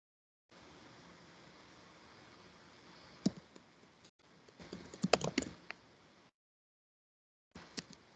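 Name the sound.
computer keyboard typing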